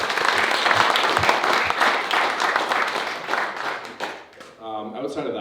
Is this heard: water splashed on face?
no